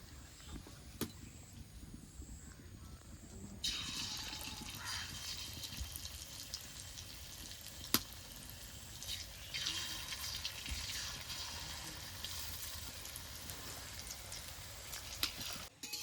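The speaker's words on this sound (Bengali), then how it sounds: "এবার বাকি পেঁয়াজিগুলো এভাবে ভেজে নেবো" Onion fritters (piyaji) fry in hot oil with a constant sizzling hiss that swells in louder bursts as fresh batches hit the pan.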